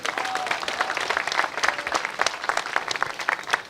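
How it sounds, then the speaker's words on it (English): An outdoor crowd at a ceremony unveiling a statue honouring basketball coach Dawn Staley applauds, a dense, steady burst of many hands clapping close by that carries through the whole moment. "Y'all clap it up for him."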